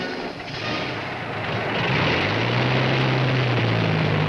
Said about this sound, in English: The thunder of a V12 engine announces the Mustang fighter of Jack McDonald.